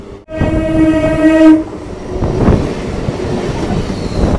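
A passenger train runs between Sealdah and Bolpur via Naihati, Bandel and Burdwan. A long, loud horn blast sounds up close, then gives way to a steady rumble and rattle of the moving carriages.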